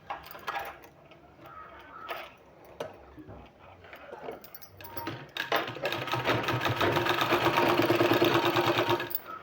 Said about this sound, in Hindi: इसको इस तरह से चून देते हुए इस तरह से यहाँ सिलाई लगा देना है